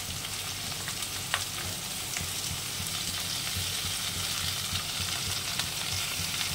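Green chilies, ginger paste, turmeric and chili powder frying together in a pan for a Bengali vegetable curry, a steady close sizzle with faint crackles and occasional spoon scrapes, no voices.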